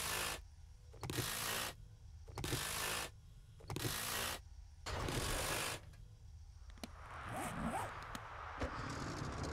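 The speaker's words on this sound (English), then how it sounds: "Let's wrench it down and get it out of our way" A vehicle part is wrenched down in 7 Days to Die, heard as repeated ratcheting bursts in a steady rhythm, about half a dozen loud pulls separated by short pauses, then a busier mechanical clatter at the end.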